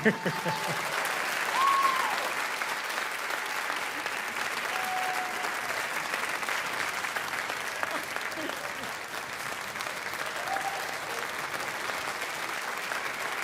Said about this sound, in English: let's give her a big cheer